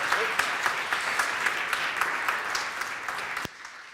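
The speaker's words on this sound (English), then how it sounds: "A big round of applause" Audience applause at a tech meetup, a dense steady clatter of many hands clapping together in an indoor room, holding strong for several seconds before dropping off sharply near the end.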